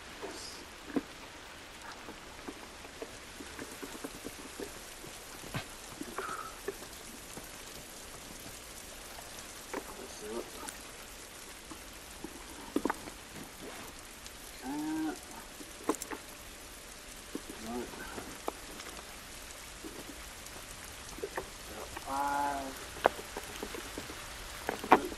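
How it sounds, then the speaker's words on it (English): Rain falling in the video game The Last of Us, a soft continuous patter and drip on surfaces with scattered louder droplets, steady and fairly quiet throughout. "This rain ain't gonna do us any good"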